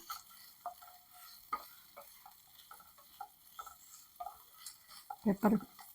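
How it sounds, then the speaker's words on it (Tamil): Prawns in a spicy pepper fry are turned in a pan, with faint sizzling and sparse scraping taps of a spatula, ending in a couple of louder clatters; a voice speaks lightly. "இன்னும் கொஞ்சம் கிறிஸ்பியாக வர வரைக்கும் நம்ம திருப்பி விட்டுட்டே இருக்கலாம்."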